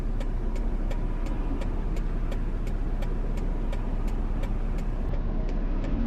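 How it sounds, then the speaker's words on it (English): Road traffic heard from a vehicle: a steady, close engine and road-noise rumble with a regular soft ticking running through it and no talking. "It's traffic in this route."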